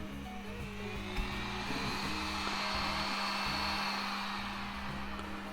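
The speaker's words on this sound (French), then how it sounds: "on passe au test du pistolet à air chaud. Donc je le mets en route" The hot air gun of an 862D+ rework station blows a steady, close whooshing stream of air with a constant low hum, unbroken and without talk.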